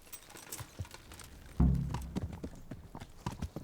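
Horse hooves in the medieval video game Kingdom Come: Deliverance clop along in an uneven rhythm, starting faint then turning heavier and closer with a solid thump as the ride begins.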